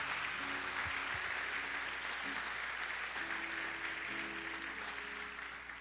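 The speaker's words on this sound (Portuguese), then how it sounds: "dê um aplauso ao Senhor com alegria" A church congregation at a conference applauds the Lord, steady, fairly distant clapping that holds throughout and fades slightly at the end, with faint tonal sounds underneath.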